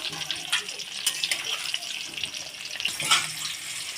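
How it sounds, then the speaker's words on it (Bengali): Parboiled potatoes frying in oil for a home-cooked chicken biryani give a steady, close sizzling hiss with occasional louder crackles and pops. "আলুটা একটু কালার দিয়ে মানে সিদ্ধ করে নিয়েছিলাম নিয়ে এই যে ভেজে নিচ্ছি"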